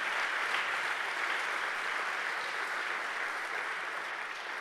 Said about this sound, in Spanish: Hermanos, denle un fuerte aplauso entonces a Jesús.